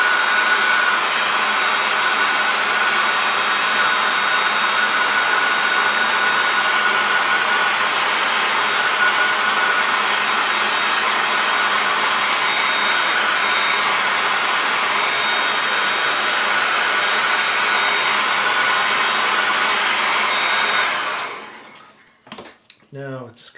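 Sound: hair dryer drying an image transfer on tile

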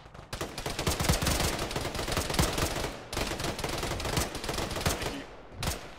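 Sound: gunfire in a video game (Arma, ShackTac)

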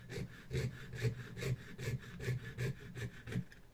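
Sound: jewellery saw cutting a workpiece

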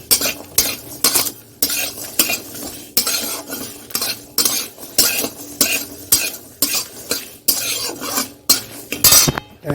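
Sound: dry roasting garlic and green chillies in a wok

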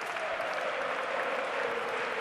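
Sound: crowd applauding at Palau handball match

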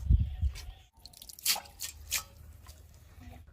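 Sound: water dripping from freshly washed banana tree bark

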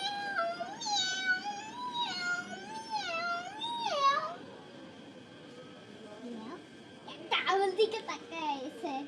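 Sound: child imitating a cat's meow

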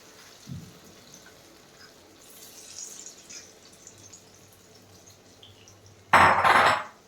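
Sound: chana dal being poured into a pot

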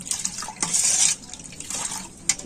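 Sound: stirring watermelon juice with salt and sugar

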